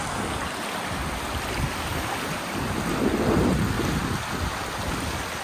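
River water rushes steadily over rocks near a village outside Mumbai-Thane, a dense, even wash of noise that swells slightly midway, with no voices.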